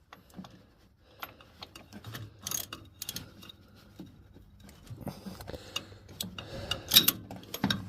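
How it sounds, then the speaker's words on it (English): A socket wrench turning the engine of a 1963 Chevy Nova, soft ratcheting clicks and mechanical ticks close up, irregular and fairly quiet, growing busier toward the end. "I found the socket that fits it, and now we're going to see if it turns"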